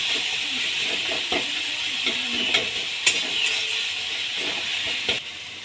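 Tomatoes stirred in a frying pan with steady frying sizzle and hiss underneath, plus occasional louder scrapes and clicks of the spoon against the pan.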